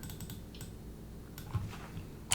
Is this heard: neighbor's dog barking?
no